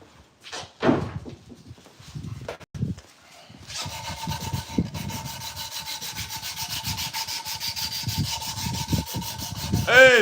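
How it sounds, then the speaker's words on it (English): Sandpaper rubs against a workpiece in a shop, first in a few scattered scrapes, then in a long, continuous rasping stroke pattern at close range, with no talk. "Sandpaper."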